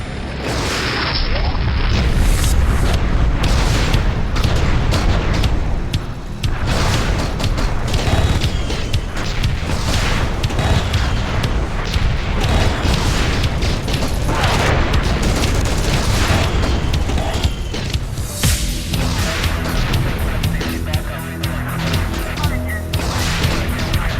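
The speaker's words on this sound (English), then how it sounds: "You'll know you're shooting the right thing by the explosion." Booming explosions and clanking mechanical noise from a shooter video game mission sabotaging generating stations, loud and dense, with blasts repeating throughout and no talk.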